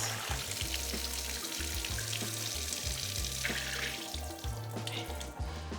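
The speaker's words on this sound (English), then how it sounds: "I'm gonna start by rinsing my rice." A steady rush of tap water pours into a kitchen sink over long grain rice being rinsed, a continuous close splashing flow with faint clinks and no talking.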